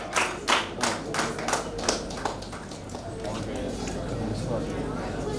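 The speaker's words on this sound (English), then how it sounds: "Parents, please give the winner a huge round of applause." Scattered hand claps from a small group at a school award ceremony, several quick claps up front that thin out into murmuring voices and room noise.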